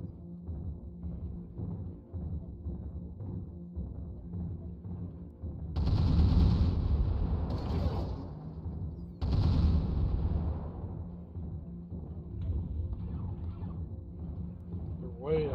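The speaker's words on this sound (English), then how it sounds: "Artillery strike online." In MechWarrior Online, two loud bursts of artillery impacts crash in after a low steady mechanical hum, followed by a quieter rumbling tail.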